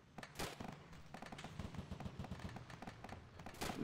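Rapid gunfire and explosive bangs from the military video game Arma 2, with repeated sharp shots and thuds over a steady battle rumble, loud and dense throughout.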